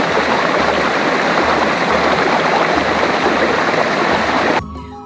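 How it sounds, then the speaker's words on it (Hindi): Snowmelt water rushes steadily in a mountain stream, a loud, continuous close-up gurgle and splash that cuts off abruptly near the end, leaving quieter ambience. "हर तरफ बर्फ के पिघले हुए पानी के झरनों की धीमी सी आवाज"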